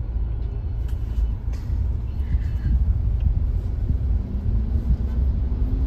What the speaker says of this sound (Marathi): तुम्ही बघू शकता किती ट्रॅफिक लागलेली आहे इथे